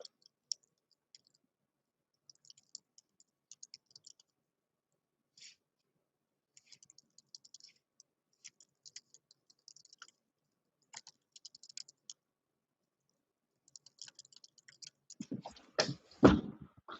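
Light, sparse keystrokes on a computer keyboard, typed in short irregular bursts into a chat, quiet and close, ending with a louder thump and shuffle.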